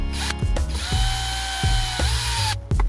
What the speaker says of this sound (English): It didn't take long to drill through the aluminium plate.